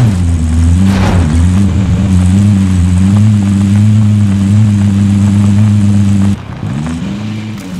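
A car being driven in the video game Call of Duty: Modern Warfare, a loud close engine drone that rises and wavers, dipping briefly near the end before continuing, with no speech.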